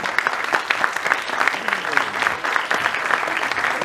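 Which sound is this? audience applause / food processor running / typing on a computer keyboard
audience applause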